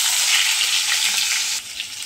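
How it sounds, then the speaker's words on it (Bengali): Ridge gourd and potato fry in hot oil with nigella seeds, giving a loud, steady, hissing sizzle that dips slightly near the end, with no voices. "ঝিঙে আলু আমার ভাজা হচ্ছে"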